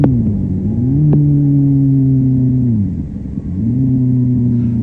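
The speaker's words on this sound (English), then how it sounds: "Here, he's revving the motor, but the clutch release is so slow he loses all the revs from his throttle blip." A motorcycle engine revs through a downshift with a throttle blip; the revs sag and drop away as the clutch is slowly released, then climb again, a steady mid-pitched drone that is close and loud with no talking.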